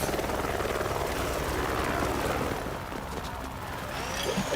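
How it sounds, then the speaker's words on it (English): Cartoon helicopter sound effect, a steady loud rotor chop with engine whine that holds throughout and dips slightly partway before rising again, with no voices. "We need a helicopter."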